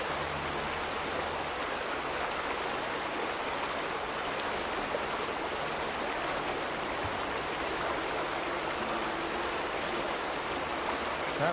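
Steady rushing flow of water in the video game The Vanishing of Ethan Carter, a broad continuous wash like a stream heard alone at an even level throughout.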